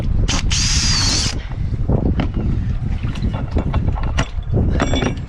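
A power drill bores through fiberglass, plywood and Douglas fir on a wooden boat under restoration outdoors. A loud, high whine bursts briefly near the start, followed by heavy wind buffeting the microphone and scattered knocks.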